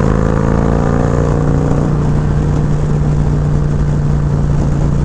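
Harley-Davidson Road Glide motorcycle engine running through its aftermarket exhaust pipe, a loud, steady, low throbbing rumble that holds without pause.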